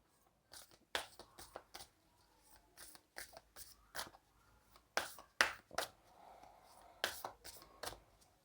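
Tarot cards are shuffled and drawn by hand in short, crisp riffling bursts with quiet pauses between them, close and fairly soft, with no speech.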